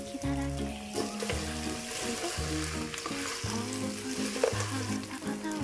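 Mutton sizzles steadily in hot oil, a constant crackling hiss under background music.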